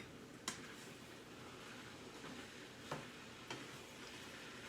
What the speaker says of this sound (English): I'm going to give this meat a stir